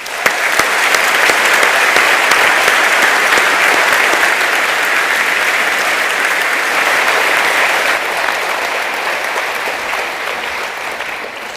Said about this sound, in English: ask you to applaud their performance